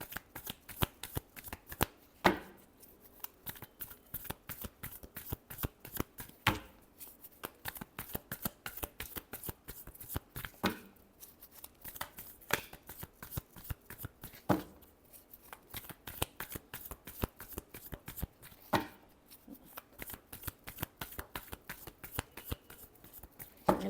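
Tarot cards being shuffled by hand at close range: a steady run of crisp riffling flicks and slaps with a few louder snaps, with no voices.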